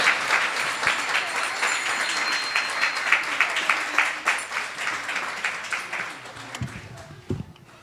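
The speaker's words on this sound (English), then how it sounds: "then you're clapping for Premahara, you're clapping for Radharani" An audience at a kirtan gathering claps in a quick, steady rhythm that fades out toward the end, with some voices mixed in beneath the clapping.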